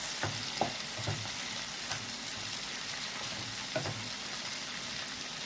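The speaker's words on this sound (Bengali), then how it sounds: "ভালো করে নাড়াচাড়া করে নিচ্ছি।" Grated ginger frying in oil for a masala fish curry, a steady close sizzle with periodic soft knocks and scrapes of a spoon stirring the pan.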